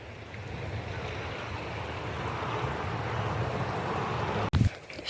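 Wind and rushing water blend into a steady broad roar, like waves washing nearby, ending in a sudden loud buffet of wind on the microphone.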